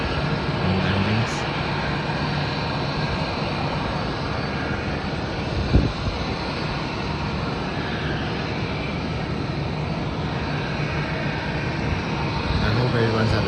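Steady roar of airplanes departing and landing at an airport, a continuous engine rumble with a faint transient thump midway and no speech.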